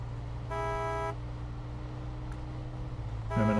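A car horn honks in a snowy driving video game, first as a sustained blast of about half a second and then as a second honk starting at the very end, over a steady engine-like hum.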